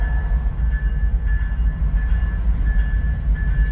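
A CSX freight train led by four locomotives rolls past at Emerson, Georgia, a loud continuous rumble of engines and wagons with a steady tonal whine, close and unbroken, no talking.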